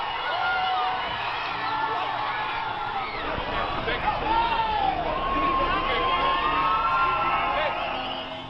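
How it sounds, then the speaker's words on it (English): A crowd at a street protest shouts and cheers in a dense, continuous roar, with whoops and raised voices rising over a noisy street background. "as the crowd cheered."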